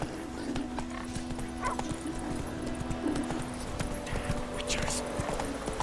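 Hooves of Geralt's horse Roach clip-clopping in The Witcher 3, a steady close gait under a sustained low hum, with a dog barking briefly and a voice speaking over it.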